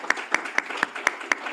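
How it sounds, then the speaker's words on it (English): A small audience in a room gives a brief round of applause for volunteers. Six evenly spaced sharp claps stand out over a softer patter of hands, with no talking. "I would like a round of applause for all the volunteers in the back of the room"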